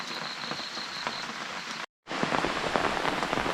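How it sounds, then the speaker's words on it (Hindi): Steady monsoon rain in the hills of India patters and hisses on surfaces nearby, briefly cutting out before resuming with the same dense, continuous pattering. "अभी तक बारिश बंद नहीं हुई"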